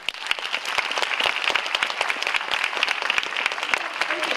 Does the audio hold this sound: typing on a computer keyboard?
no